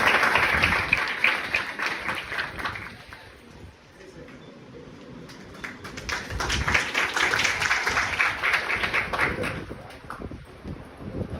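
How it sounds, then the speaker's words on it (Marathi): Students at a college foundation day programme in Koparkhairane, Navi Mumbai, break into scattered applause, the clapping swelling in two waves with a lull in the middle, fairly close and steady, with faint background voices. "टाळ्या वाजवायच्या विद्यार्थ्यांनी."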